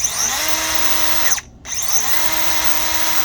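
A Milwaukee M12 Fuel 3-inch cut-off tool whines at high speed, winds down to a short near-silent gap, then spools back up to a steady, close, loud whine.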